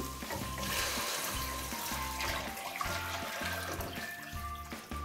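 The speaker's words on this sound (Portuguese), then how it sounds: "Eu vou entrar com a água. Aqui tem um litro e meio de água" A litre and a half of water is poured into a cooking pot over wilted onions for a cornmeal, egg and kale soup, making a steady, close splashing and gurgling stream that runs without pause.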